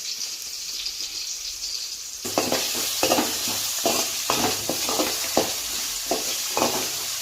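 Onions and tomatoes frying in a pan for a tamarind-free fish curry, a soft sizzle that grows louder as a spoon begins scraping and stirring in a repeated rhythm, close and without talk.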